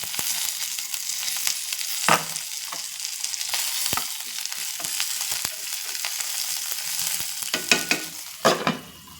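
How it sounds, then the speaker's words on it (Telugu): Nalleru (veldt grape) stalks frying in oil, a steady close sizzle broken by several sharp knocks and scrapes of a spoon stirring against the pan. "నల్లేరు కాడలు విడిగా వేయించుకోవాలి"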